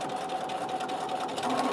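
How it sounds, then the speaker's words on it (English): A sewing machine stitches binding onto a quilt with a close, continuous mechanical whir and rapid needle clatter at an even pace. "I'm gonna stop, lift up my presser foot, kind of come back on top so I can start stitching all the way down to the corner"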